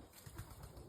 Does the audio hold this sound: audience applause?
no